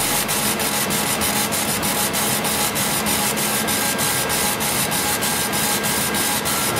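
A laser engraver works a rubber stamp, its steady loud rasping whir broken by a rapid regular ticking as the head sweeps back and forth.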